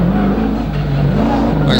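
A Holden VL race car with a big V8 roars loudly and close at a hillclimb, its throaty engine tone holding steady with small dips and rises in pitch throughout.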